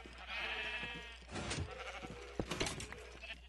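Sheep bleating in the video game Minecraft, a few short bleats over steady game sounds, with someone talking through most of it.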